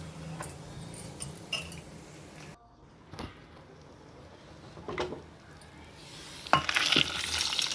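Food fries and sizzles in a pan with a steady crackling hiss. It drops away briefly midway, then returns with louder bursts of sizzle and a few sharp clinks near the end.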